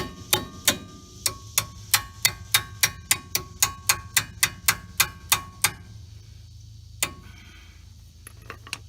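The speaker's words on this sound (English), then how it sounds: "Now you take your hammer and you bring it all in there at one time." Rapid, evenly spaced metal hammer strikes on brake parts of a 1989 Chevy R35 dually pickup ring out close by, about a dozen and a half in a row, followed by a pause and a few scattered taps.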